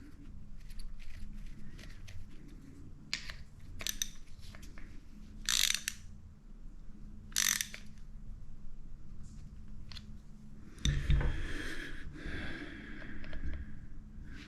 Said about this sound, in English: and all I gotta do is put the bolt back in